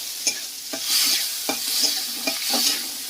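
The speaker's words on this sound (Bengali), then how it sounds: "পেঁয়াজ আর কালো জিরে দিয়ে একটু ভাজা ভাজা করে নিতে হবে" Onions with black cumin fry in a pan, a bright sizzle broken by several rhythmic scrapes and knocks of a stirring spoon, close and fairly loud with no speech.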